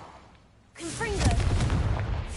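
A Confringo fire-blast spell explodes in the video game Hogwarts Legacy, a quiet lead-in giving way to a loud booming blast with crackling rumble, while a voice cries out over it.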